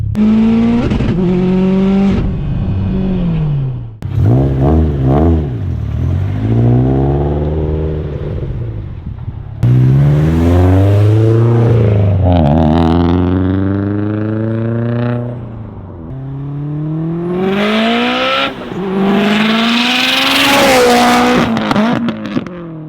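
An 800hp Subaru STi is driven hard, its engine revving and climbing through several long accelerating pulls with gear changes, loud and close throughout.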